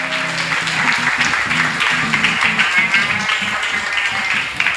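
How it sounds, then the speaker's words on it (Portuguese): Congregation clapping at a Portuguese-language Pentecostal praise and preaching service, a steady dense wash of applause running throughout with faint background tones and a murmur of voices underneath. "Aplauda mais uma vez o nome do Senhor Jesus."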